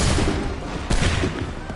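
A volley of gunfire rings out on command, one sharp, dense crack of many guns going off together, loud and close. Shouted orders and noisy chatter surround it.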